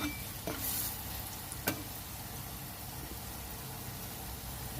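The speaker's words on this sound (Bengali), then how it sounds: "এখানে আলু ভাজতে দিয়েছি" Potato pieces fry in a pan with a continuous soft sizzle and a few sharp clinks of stirring, moderately quiet and without voices.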